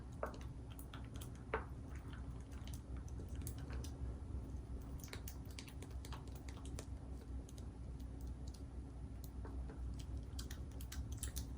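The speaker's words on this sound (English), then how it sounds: "we're gonna stir this again" A tinted lip gloss mixture is stirred in a small container, giving faint, close, irregular sticky clicks and soft squishy taps spread throughout.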